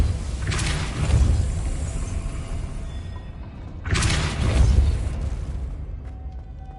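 The Depulso spell is cast twice in the video game Hogwarts Legacy, each a whooshing burst with a deep thump, the two blasts a few seconds apart over a low ambient rumble, without any voices.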